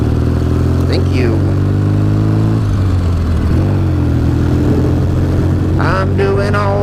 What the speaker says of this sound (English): I'm riding my motorcycle